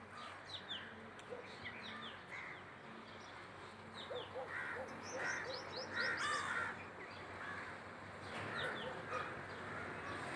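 Crows caw repeatedly after being released together with racing pigeons at a pigeon-flying tournament, harsh calls overlapping at moderate distance over a steady outdoor background, with a few chirps from other birds.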